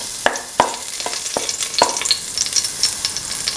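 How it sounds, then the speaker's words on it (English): Fennel seeds and red chilli hit hot oil for mint tomato rice, giving a soft continuous sizzle broken by several sharp clicks and taps of a spoon against the pan. "Put in the fennel seeds and the red chilli."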